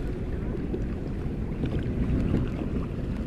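A tour boat on open water near El Nido, heard as a continuous low rumble of motor and wash mixed with wind buffeting the microphone, steady and fairly loud throughout.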